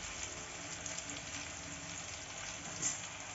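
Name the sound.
stirring tomatoes with turmeric, chilli, cumin powder in frying pan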